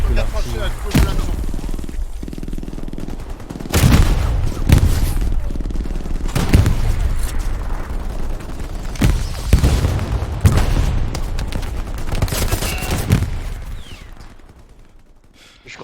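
Video-game gunfire and grenade blasts from a multiplayer shooter match: repeated loud bursts and booming hits, with voices talking over the action throughout.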